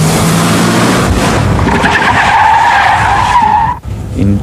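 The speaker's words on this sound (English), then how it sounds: "the chase car with the 2 instructors in it perform a half a bootleg turn or cut the student off" Chase car carrying two instructors skids through a half bootleg turn, a loud sustained tire squeal over engine roar that cuts off abruptly near the end, with no talk.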